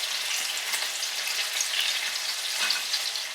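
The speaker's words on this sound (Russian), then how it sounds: "Жарим на масле." Cutlets fry in oil in a pan with a steady, dense sizzle that holds at an even level throughout, close and alone with no voices.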